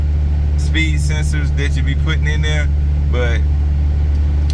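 A Honda Accord cruises around the block with windows up and the air conditioning running, a steady low engine drone and road hum inside the cabin while someone talks over it.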